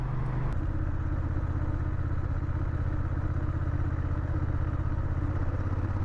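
Honda Rebel 1100 motorcycle with a Batwing fairing, ridden at speed: a steady, loud, low engine drone with a constant rumbling throb and wind noise, a brief shift in pitch at the start, no talking.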